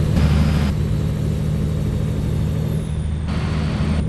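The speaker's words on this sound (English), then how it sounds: "The Detroit diesel doesn't sound too bad. Kind of reminds me of an older, more rugged, big rig." A Detroit diesel big-rig engine in American Truck Simulator, driving a Coronado truck, rumbles steadily and loudly throughout with a deep, rugged drone and a faint high whine overhead.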